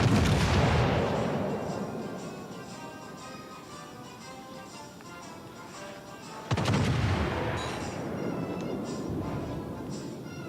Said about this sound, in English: Prince Heinrich does have 15-inch guns, so that could hurt.